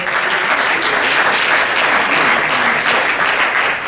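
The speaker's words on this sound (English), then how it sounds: "give him another applause, John Conyers" A large audience at a forum on policing and incarceration gives sustained applause for Congressman John Conyers, a loud, even wash of many hands clapping without a break.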